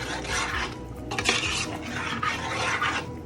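Ingredients for rasta pasta, including freshly ground black pepper, are stirred around a pan, making a steady, close scraping rasp with soft clatters of the utensil against the pan for the whole stretch. No one speaks.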